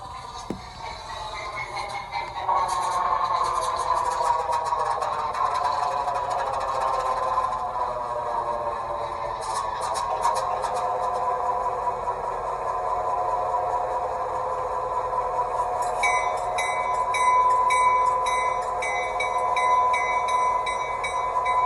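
Rapido HO scale H16-44 model diesel locomotive running its startup sequence, with a steady engine rumble building after a few seconds and holding close and loud, plus brief bell-like and mechanical tones layered on top.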